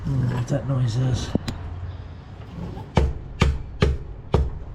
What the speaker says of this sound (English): E-brake cable making noise.